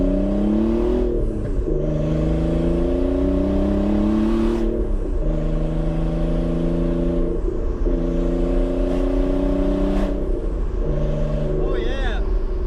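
A Nissan 300ZX Z32 revs while driving on its first drive, close and loud inside the car, its engine note climbing steadily and dropping at each gear change.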